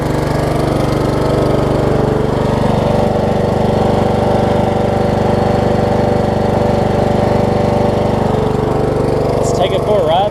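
A Troy-Bilt Pony riding mower engine runs steadily on a newly installed carburetor, a loud continuous idle-like drone filling the whole stretch with a brief clatter near the end.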